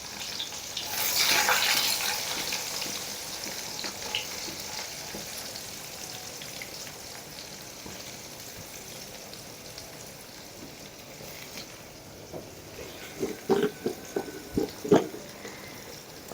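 Chopped onion fries in a pan with a dense, rain-like sizzle that swells early and then settles, while near the end a few scraping stirs and clinks stand out close by.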